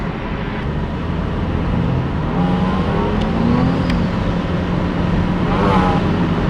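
Nissan G35 accelerating hard along a straightaway, a steady loud engine drone heard from inside the car that rises slightly in pitch as it builds speed, with no talking.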